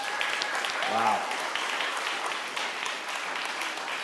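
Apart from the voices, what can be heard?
audience applause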